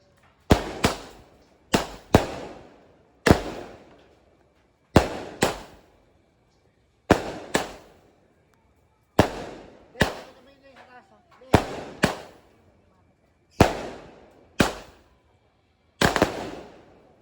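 Fireworks and firecrackers go off at a New Year celebration, a series of about fifteen sharp, loud bangs spaced every second or so, each trailing off with a brief echo, with a little faint voice activity between blasts.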